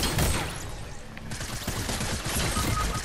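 SMG fire rattles in Fortnite, loud rapid bursts with dense overlapping shots that ease briefly before another volley, heard close without talk.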